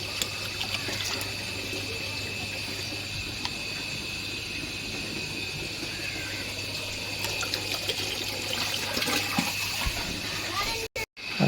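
Water carrying moina culture poured into a tank, a continuous splashing trickle running for several seconds over steady background hiss and a high insect-like whine, ending in a brief cut-off.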